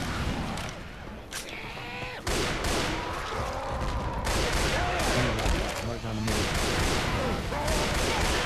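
Gunfire in Left 4 Dead 2 survival mode at a rock concert: dense bursts of rapid automatic shots and booms, loud and near, running almost without pause, with voices talking underneath.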